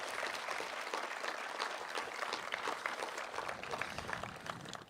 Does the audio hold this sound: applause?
yes